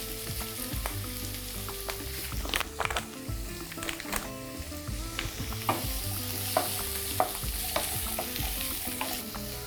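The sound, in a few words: zucchini and carrot frying in a pan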